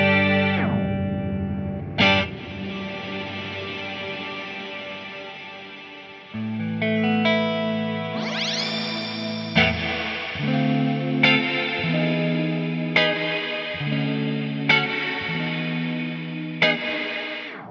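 Distorted synth notes through an Erica Synths and 112dB Nightverb reverb ring out one after another, each trailing off in a long wash of reverb, with sharp attacks punctuating the sustained tones.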